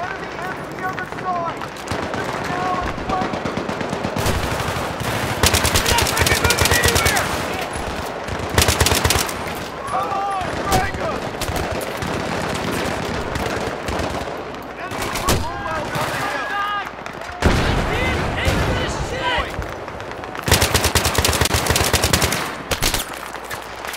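Machine gun fire in Battlefield 3 comes in loud, rapid bursts separated by short pauses, alternating with quieter stretches where a voice talks.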